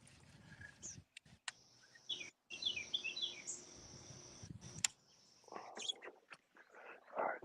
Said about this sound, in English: You hear the birds chirping in the background.